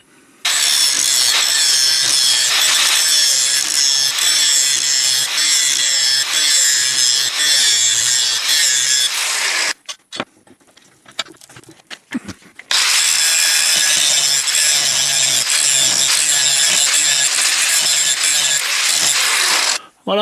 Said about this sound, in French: je vais pratiquer un petit chanfrein de ce côté de la pièce et de l'autre côté sur la petite pièce